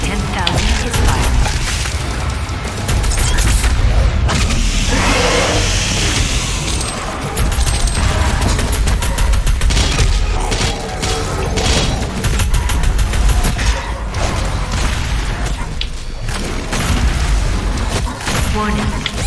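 The BFG 10,000 fires in DOOM Eternal: a loud, sustained barrage of deep booms and blasts rolling on and off with rumbling low end. A voice sounds over the din.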